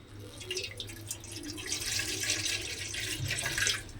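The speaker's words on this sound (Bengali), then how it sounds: "এইবারে আমি কড়ার মধ্যে দিয়ে দেব জল।" Water pours into a kadai wok on a gas stove for jackfruit and prawn curry, a steady close splashing trickle lasting a few seconds.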